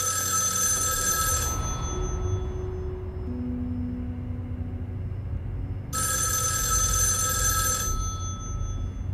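Telephone ringing in the video game Erica, two loud bright ring bursts spaced several seconds apart over a low steady background hum, with a quieter tonal lull between rings and no speech.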